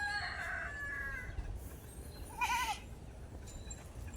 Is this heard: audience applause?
no